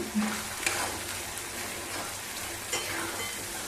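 Ground coconut paste fries in oil with a constant soft sizzle and crackle like light rain, and a couple of faint spoon taps against the pan.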